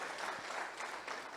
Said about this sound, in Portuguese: Aplaude ele, igreja, aplaude.